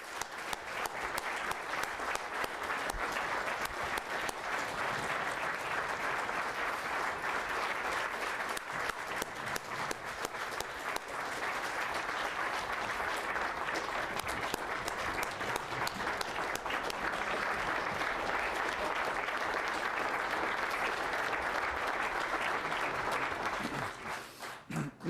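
Sustained applause from a large audience at the Alaska Legislature, honoring North Slope whaling captains, fills the hall steadily for about 24 seconds before tapering off at the end.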